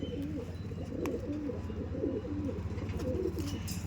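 Andhra Madrasi pigeons coo repeatedly inside a loft, soft rolling calls overlapping in a close, steady chorus with no talking.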